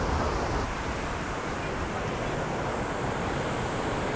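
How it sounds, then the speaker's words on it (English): An Oregon waterfall roaring as a dense, steady broadband rush, heard from a bridge at moderate distance with wind buffeting the microphone. "Here's the waterfall behind me."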